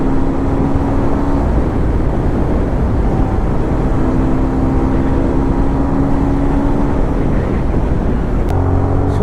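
A motorbike is ridden fast during a road race. Its engine gives a loud, steady close drone mixed with wind rush, holding almost unbroken throughout.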